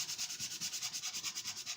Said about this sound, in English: So you can use the sanding block.